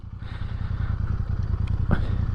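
Royal Enfield INT 650 retro motorcycle idling quietly up close, a steady low engine throb with light mechanical clatter and one brief knock near the end.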